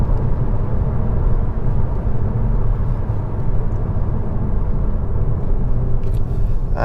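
A revised Mazda 6 with a 2.5 litre engine, front wheel drive, on the move, a loud, steady low rumble of engine and road noise from inside the cabin, continuous and without talk.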